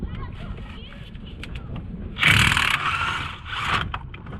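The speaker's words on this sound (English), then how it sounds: "Got an 18mm ring spanner, so let's have a look." An 18mm ring spanner turns a bolt on the front brakes of a 2009 Mercedes-Benz W204 C200, giving a close burst of metallic ratcheting and clicking over about two seconds, with a quieter clatter following.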